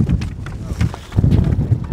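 Strong wind buffets the microphone in low, rumbling gusts, with voices talking faintly underneath.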